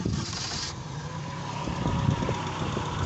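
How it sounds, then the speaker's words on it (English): A 1971 Jeep CJ-5 with a carbureted engine running in Karachi, a low, uneven idle rumble with a slight rise in revs partway through, steady and fairly close without speech. "It's a carburetor based engine"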